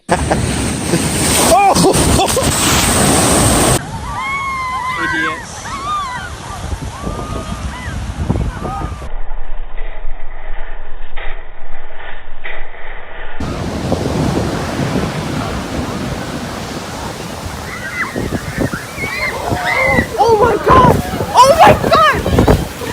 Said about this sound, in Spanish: la marea se ve baja, parece que no hubiera mucho oleaje